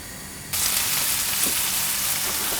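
Bacon strips hit a hot pan for coq au vin and burst into a loud, steady close-up sizzle after a brief quieter start, with faint pops and no talk.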